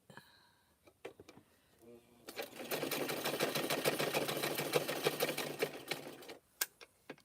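An old sewing machine runs a straight stitch in bursts: a few hand-turned clicks, then a steady whirring run of needle strokes for about four seconds, then stopping with scattered clicks.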